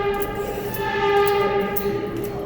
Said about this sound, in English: what we're gonna do, guys, is take the damn R train.